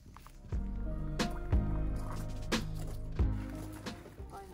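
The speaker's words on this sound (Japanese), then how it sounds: "まずはコンテナを斜めにして水をかけてみます" Water poured over harvested taro corms in a tilted container, giving a close, steady wet splashing and dripping with several heavier sloshing surges across the span.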